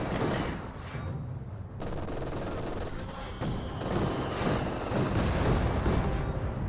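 Sustained gunfire and explosions fill a Company of Heroes 2 World War II battle between Wehrmacht and Soviet forces as a machine gun tries to take out a DShK heavy machine gun position, loud and continuous with no speech.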